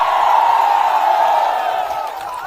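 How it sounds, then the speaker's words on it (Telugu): A rally crowd clapping and cheering in a dense, continuous roar of applause, loud and close, tapering slightly toward the end. "చప్పట్లు కొట్టి అభినందించండి"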